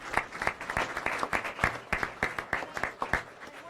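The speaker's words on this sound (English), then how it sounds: "Let's have another round of applause for all of our awardees." Audience at a transit board meeting applauding awardees: a modest, sparse round of individual claps with uneven rhythm, fairly close and alone with no talk over it.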